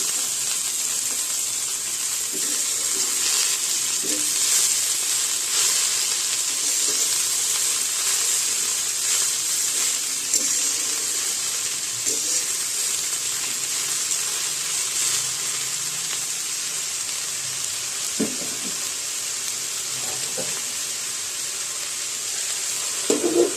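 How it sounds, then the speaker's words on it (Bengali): Spinach sizzles in a covered pan, giving a steady hiss and crackle that holds for over twenty seconds, with occasional soft knocks and no talking. "খুন্তি দিয়ে ভালো করে উলটপালট করে আমি 2-3 মিনিটের জন্য ঢাকা দিয়ে দেব"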